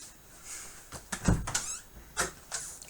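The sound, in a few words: door opening or closing in the house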